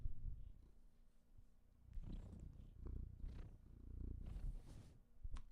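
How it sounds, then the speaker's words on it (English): A cat purrs close to a microphone in a steady, low rumbling rhythm, with soft breathy pulses that rise and fall in gentle waves. The purring carries alone against a quiet room background. "Kitty on the mic."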